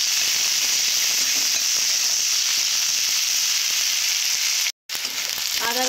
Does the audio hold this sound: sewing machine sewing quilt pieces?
no